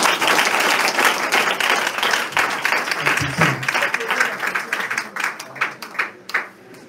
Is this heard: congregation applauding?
yes